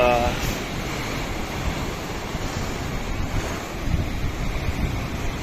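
Sea waves wash continuously against the shore while strong wind buffets the microphone, producing a loud, steady roar.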